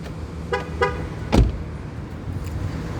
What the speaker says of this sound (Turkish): Kapı açık çift kornalı uyarı var.